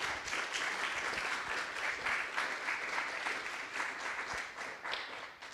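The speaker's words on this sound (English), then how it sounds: "Another round of applause for our speakers, please." A conference audience applauds speakers after a set of lightning talks, sustained clapping from a room of many hands, even and moderately distant, with a faint murmur of voices underneath.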